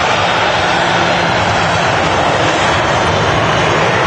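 A KLM airliner in from Amsterdam touches down at Manchester Airport, its engines giving a continuous loud broadband roar that holds steady throughout.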